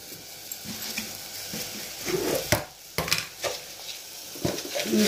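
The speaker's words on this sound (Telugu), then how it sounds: "మరిగినాక ఇప్పుడు పాలు మరుగుతున్నాయి" Milk boiling in a pot for sheer khurma, a soft bubbling hiss with a few scrapes and clinks of a spoon against the pot, close and without talk.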